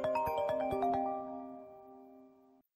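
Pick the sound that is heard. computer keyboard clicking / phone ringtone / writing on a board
phone ringtone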